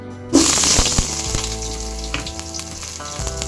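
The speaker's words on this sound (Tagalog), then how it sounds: "simple-simple lang yung ating lulutuin igigisa lang natin yung ating sangkap" Onion, garlic and ginger hit hot oil for sautéing, bursting into a loud sizzle that settles into steady frying with a few faint clinks of stirring.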